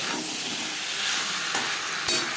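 Katla fish pieces are stirred with spices in a hot pan for a curry with potato and green banana, making a loud, steady hiss and sizzle with a couple of brief clatters of the spoon and no voices.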